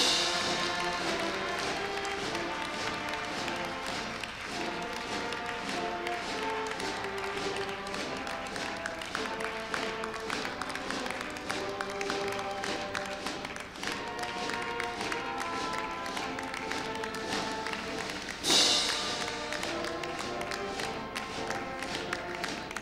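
Big round of audience applause at a university president's inauguration ceremony, sustained steady clapping from a large hall crowd that continues evenly, with music tones sounding alongside.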